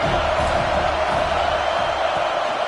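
A steady, dense roar of a large stadium crowd in a college football video game fills the air, constant and loud with no breaks.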